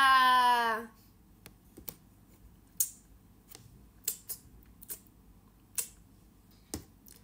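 After a brief voiced sound at the start, scattered keyboard key taps follow, sparse and uneven, close and fairly quiet.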